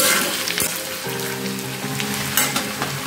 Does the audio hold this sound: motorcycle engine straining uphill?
no